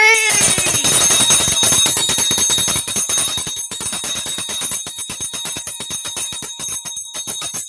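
A bright, high-pitched bell rings loudly and steadily in rapid repeated strikes, its tones ringing on for several seconds with no talk over it.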